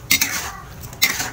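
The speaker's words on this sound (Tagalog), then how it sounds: "Saka haluin lang natin." Shrimp and tofu stirred in a pan with a utensil, giving two brief scraping, clinking strokes against the metal about a second apart, close and moderately loud over a low background.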